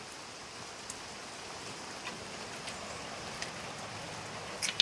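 Steady rain falls as a soft, even hiss with faint scattered drop ticks, quiet and unbroken throughout, with no voices.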